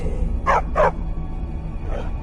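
A dog companion in Skyrim gives two quick barks close together, then a softer third bark after a pause, over low ambient game noise.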